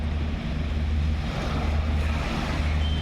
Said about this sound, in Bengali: এখানে কিছুক্ষণ দাঁড়ায় আপনাদের সমুদ্রের গর্জন শোনাই দেখেন